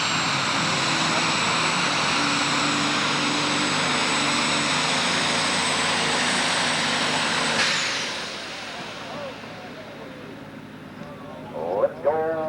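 An Allis-Chalmers D21 pulling tractor at a 1995 Shepherdsville, Kentucky pulling event roars loud and sustained at full power for about eight seconds, then fades into quieter distance and crowd noise with a brief voice near the end.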